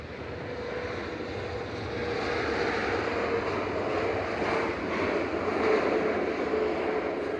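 An Airbus A321neo airliner lands at Manchester Airport with a broad, steady roar of engines and rushing air that swells slightly and holds, heard from a distance with no talk.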